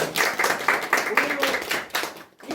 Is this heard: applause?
yes